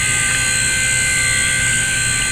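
A steady, high-pitched whine of a Blade mCPx RC helicopter's small spinning rotors holds constant throughout, loud and close, with no voices.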